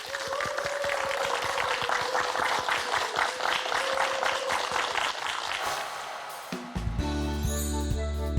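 Lecture audience applauding a speaker at a talk on measurement standards, dense sustained clapping from many hands for several seconds, followed by a short musical chime sting.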